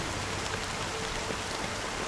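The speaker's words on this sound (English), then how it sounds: "But it's still raining." Steady rain falls in the Honkai Star Rail video game, a dense even hiss of drops on surfaces, constant and moderately loud with no voices.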